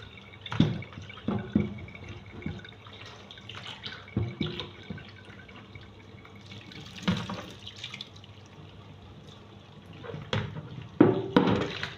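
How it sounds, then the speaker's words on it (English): Cold water running from a tap over blanched cabbage in a kitchen while making coleslaw, faint trickling and splashing in irregular bursts with occasional louder gushes and clinks. "I will add cold water now."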